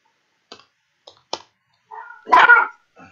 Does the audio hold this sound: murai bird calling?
no